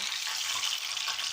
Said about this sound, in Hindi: अब इसी तरह से मैं सारी मछली अपनी को फ्राई कर लूँगी